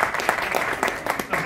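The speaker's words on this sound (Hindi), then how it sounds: "जोरदार ताली इनके लिए" A small audience claps at a live product demonstration, a brief burst of scattered, uneven hand claps with a few sharp individual strikes, moderately loud and close.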